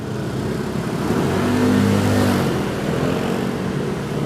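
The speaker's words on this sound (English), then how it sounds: "right behind that motorcycle helmet, the yellow Mustang." A yellow Ford Mustang accelerates nearby, its engine note rising and swelling in the middle before easing off, over a constant background of road and traffic noise.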